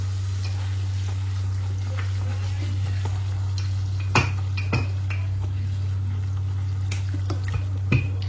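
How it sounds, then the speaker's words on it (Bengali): Puffed luchi flatbread frying in hot oil in a home kitchen, a soft continuous sizzle under a steady low hum, punctuated by a few sharp clinks and scrapes of utensils against the pan. "লুচি কিন্তু বেশি ভাজতে হয় না, মানে একটু এরকম সাদা সাদা থেকে উঠাইতে হয় আপু"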